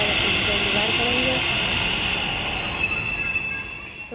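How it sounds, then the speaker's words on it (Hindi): A Delhi metro train pulls into Lajpat Nagar station, a steady loud rumble of wheels and carriages with a rising high-pitched squeal of braking wheels building in the second half. "फाइनली हमारी मेट्रो आ चुकी है, हम बैठेंगे मेट्रो में"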